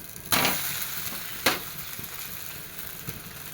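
Wheat dosa batter sizzles on a hot pan, a soft steady frying hiss broken by two sharper bursts as the batter is ladled and the dosa turned, fairly quiet and close.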